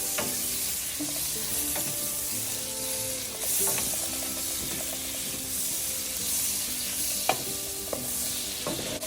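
Butter melts in a skillet still holding flavor from cooked shrimp, hissing and sputtering at close range with light stirring scrapes and a few sharp pops and taps toward the end; no voices.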